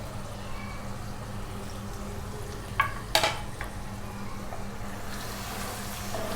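Mutton with chili, turmeric, salt and coriander frying in a clay pot, a low steady sizzle with a few sharp scrapes of stirring midway.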